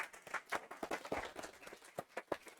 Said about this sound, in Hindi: जोरदार ताली भाई